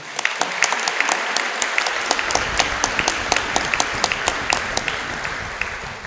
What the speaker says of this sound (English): Let's give these champions a round of applause